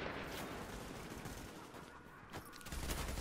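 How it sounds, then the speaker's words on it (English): Gunfire crackles in The Division's Dark Zone, a faint, steady stream of distant shots under a dense wash of game noise, with no talk. "They're firing on you."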